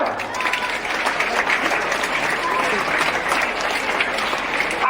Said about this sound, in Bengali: করতালি দাও